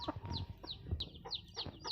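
Chickens on a rural farm in northeastern Thailand cluck close by as they peck at tossed butterfly pea flowers. Several short, repeated clucks and squawks overlap at a brisk rhythm, with no talking.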